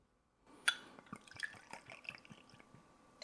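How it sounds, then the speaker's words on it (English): Two ounces of dark rum are poured into a drink, starting after a brief silence with a clink, then a close, quiet trickle and dripping splashes of liquid into a glass. "Last, we're going to add 2 ounces of a dark rum."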